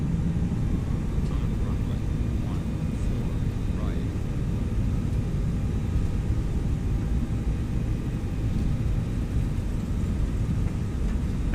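Airliner engines spool up for takeoff in the X-Plane 11 flight simulator as a continuous, loud, broad roar that holds steady throughout, with a voice talking over it.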